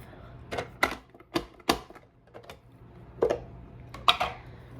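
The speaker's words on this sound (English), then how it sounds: "I'm going to use my vegetable chopper, which has a very fine dice" Sharp clacking chops of a fine-dice vegetable chopper pressed through tomato halves, about eight irregular strikes in close succession with brief pauses, no talk.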